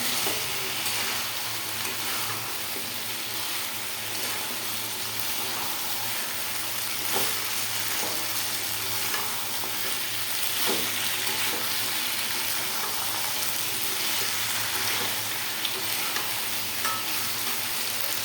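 Vegetables frying in a pan with hot water just added, giving a steady broadband sizzle with occasional faint stirring scrapes throughout, close and constant, with no talking.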